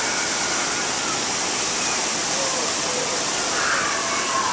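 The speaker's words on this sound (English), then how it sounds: "There's a waterfall. Big waterfall." A big waterfall at Disneyland pours in a steady, dense roar close at hand, unbroken and loud with no talking over it.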